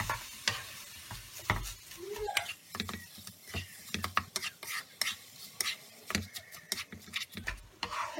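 Vermicelli (semai) frying in ghee and oil with cardamom and cinnamon in a pan over low-medium heat, with a soft sizzle under repeated clinks and scrapes of a spoon stirring, irregular and close.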